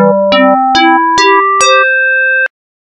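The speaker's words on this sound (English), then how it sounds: "As you can hear, this gives a rather open, low metallic sort of sound" Frequency-modulation synthesizer tones with carriers set a 3-to-2 ratio apart, a series of five open, low metallic struck notes stepping in pitch, each ringing briefly before the last sustains and cuts off abruptly, clean and alone.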